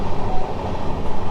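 A train, the 18237 Chhattisgarh Express, runs on steel rail tracks with a steady, loud rumbling roar and faint clickety-clack, heard up close with no talk.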